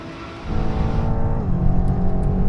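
A BMW M8, Nissan GT-R and Ferrari V12 in a rolling race from 50 mph, heard as loud engines revving and accelerating hard, with a rising roar that shifts gear partway through, close and continuous.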